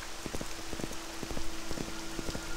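Steady rain falls across the landscape in Morrowind, a continuous soft patter with scattered brief taps and thumps over it, heard on its own with no voices.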